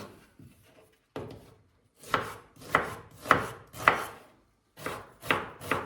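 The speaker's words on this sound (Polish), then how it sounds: "Cebulę kroję w kostkę" Onion being diced with a knife on a board, a run of close, crisp chops in short bursts with brief pauses between, no talk.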